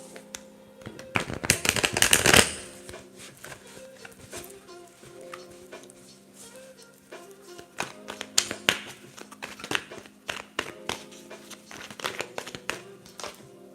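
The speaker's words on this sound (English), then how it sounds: "So I'll be shuffling from both of those." Two tarot card decks are shuffled by hand in quick bursts of papery riffling and slapping, loudest early on, then scattered crisp card taps and flicks.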